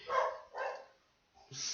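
A house dog barks twice in quick succession, fairly close but soft, followed by a brief quieter yip-like sound.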